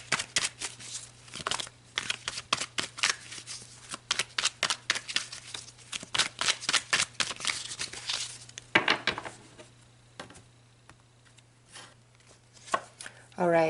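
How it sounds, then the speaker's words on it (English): A deck of tarot cards being shuffled by hand, with quick bursts of riffling and crisp card slaps for several seconds, then quieter handling and a short pause before a final rustle. "I am shuffling the wrong deck"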